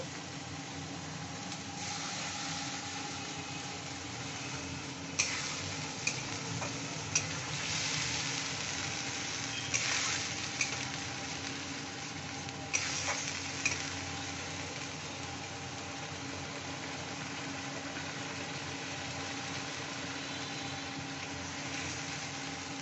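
Snakehead (shol) fish curry masala sautéing in a pan, a steady close sizzle and fry running throughout with a few sharp clinks of a spatula against the pan, no talking.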